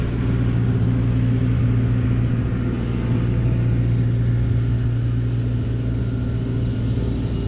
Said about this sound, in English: just let this truck pass by